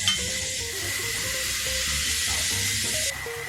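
Bell peppers sizzle steadily in a pan while a French chef sweats them over the heat, a dense continuous frying hiss with faint pan and stirring noises beneath and no talk.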